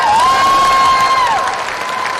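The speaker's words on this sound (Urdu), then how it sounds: "ذرا ایک بار ہاتھ اٹھا کے تالیوں میں کی گونج میں بتائیے کہ آپ عمران خان سے کتنا پیار کرتے ہیں" A large crowd at a ceremony in Islamabad cheers and applauds in a continuous wash of noise, with a high whistle or shout cutting across.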